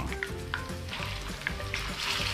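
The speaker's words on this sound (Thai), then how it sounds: "ผัดให้หมูสับของเราสุกเลยนะครับ" About 200 grams of minced pork stir-fries in a pan with garlic, coriander root and pepper paste, a steady close sizzle with light scraping from stirring.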